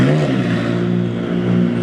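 A straight-piped Lamborghini Murcielago LP640 V12 holds a loud, raspy rev right up close, a deep droning exhaust note with a slight pitch rise and dip over two seconds, nothing else audible.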